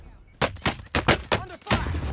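Sniper gunfire in the Call of Duty Warzone battle royale, Caldera map: a rapid series of about six loud, sharp shots cracking out in irregular succession near an airport runway and terminal, with a brief voice in between.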